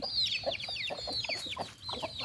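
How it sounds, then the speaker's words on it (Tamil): Free-ranging chickens on a farm give soft, repeated clucks and higher chirping calls, close by and continuous. "இதெல்லாம் மேய்ஞ்சிட்டு இருக்கிற கோழி"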